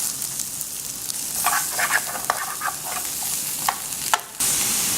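Onions, pimento and garlic fry in oil in a pan with a steady high sizzle, broken by a run of scraping stirs and clatters midway, then a brief lull and a fresh burst of hissing near the end.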